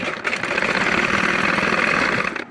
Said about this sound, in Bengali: দুই পাশে কিন্তু সেমভাবে আমরা এভাবে চাপ সেলাই দিয়ে নেব।